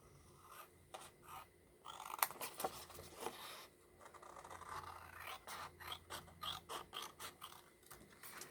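Scissors snip through a paper index card along a drawn line, giving quiet, close, irregular crisp cuts and scrapes at a slow working pace, with no voices.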